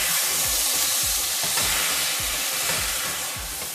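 Fresh tomatoes with Italian dressing cooking in a pan, a dense steady hiss and sizzle with a faint rhythmic low pulsing beneath, close and constant without any voices.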